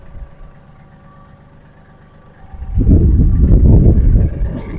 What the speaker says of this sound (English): I gotta get in the tractor and keep it from rolling forward.